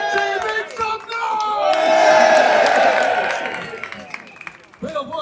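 Large rally crowd in Braintree roars, cheers and whoops in a loud sustained swell that builds and then fades, with scattered clapping and shouting voices throughout.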